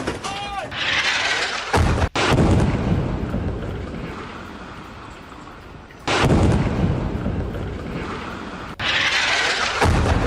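Israeli bombing strike on a building in Dahiyeh, Beirut: heavy booming blasts and roaring rumble, loud and close, with sharp cuts between bursts and a wind-buffeted, chaotic wash throughout.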